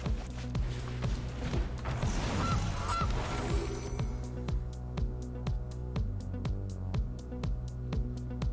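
Goose honk effect in the card game Magic Arena: a flurry of loud honks and flapping early on, then a game soundtrack with repeated sharp ticks, no talk.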